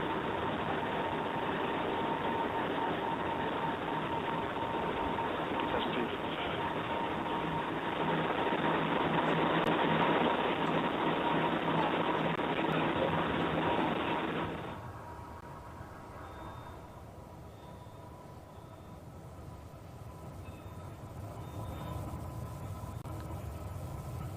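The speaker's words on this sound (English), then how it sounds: "the vehicle continues on its upward ascent towards space" Blue Origin's New Shepard rocket on its 26th flight roars steadily and broadband as it climbs toward space, then drops abruptly to a quieter, thinner rumble for the last several seconds.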